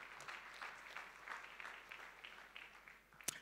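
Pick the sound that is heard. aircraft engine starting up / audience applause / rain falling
audience applause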